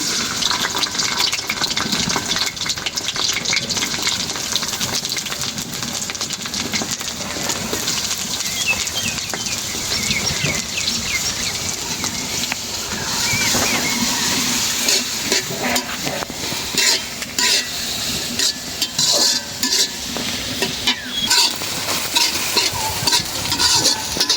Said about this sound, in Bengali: তেলটা গরম হয়ে গেছে, দিয়ে দিলাম পেঁয়াজ।